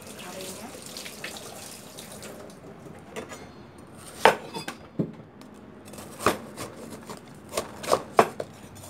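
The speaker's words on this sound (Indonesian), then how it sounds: "Sekarang saya potong ya parenya." A knife chops through bitter melon in a home kitchen, giving a handful of sharp, irregular cuts over faint running water and sink clatter.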